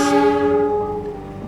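A train sounds its horn at a station, a loud, sustained multi-tone blast that starts strong and fades gradually over a second and a half, with rumbling rail noise underneath.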